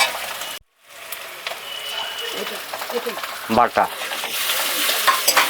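Onion frying until brown in a pan for a village-style jackfruit curry, with a steady close sizzle and spatula scrapes, a brief silence near the start, and a voice speaking over it.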